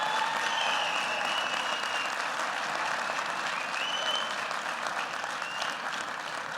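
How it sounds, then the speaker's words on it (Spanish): Sustained applause from an assembly crowd honouring physical education teachers at a weekly national education movement gathering, a dense, even wash of many hands clapping steadily throughout without a break. "Un aplauso para las maestras y maestros de educación física."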